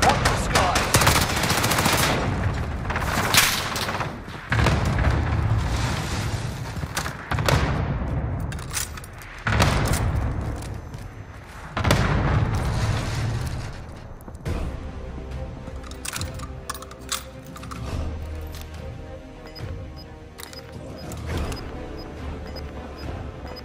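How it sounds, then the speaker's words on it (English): Video game cluster airstrike pounding an area with a rolling chain of heavy explosions, then steady machine-gun fire and scattered shots, loud and close, with bursts repeating over nearly half a minute. "Airstrike on my marked target. Got your request. Cluster strike."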